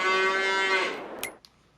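A single long, drawn-out cow moo in Farming Simulator 22, loud and close, tapering off, followed by a couple of brief faint clicks and then near silence.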